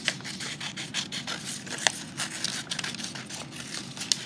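Scissors snip through paper letters in quick, close, irregular bursts of crisp cutting and light rustling of paper, with no talking.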